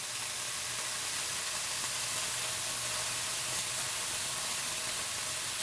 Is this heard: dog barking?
no